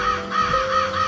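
A crow perched in a tree gives a quick run of harsh, nasal caws, clear and fairly close, over a faint steady tone.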